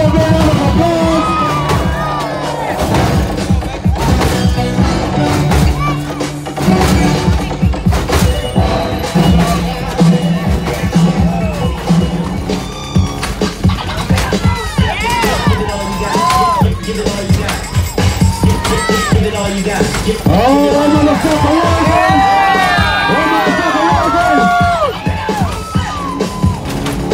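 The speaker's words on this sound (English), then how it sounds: "let's give him a round of applause" At a lowrider super show at the Cow Palace in San Francisco, a large indoor crowd yells, whoops and cheers loudly and continuously, with shouted voices rising over a dense roar.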